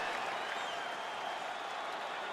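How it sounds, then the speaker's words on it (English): A UFC 4 arena crowd applauds and cheers after a round, a thick, sustained wall of clapping that stays loud throughout. "So the crowd voicing its appreciation after that round."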